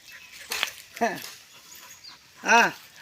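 A dog pants in quick, breathy bursts close by, with a few short airy huffs spread across a few seconds.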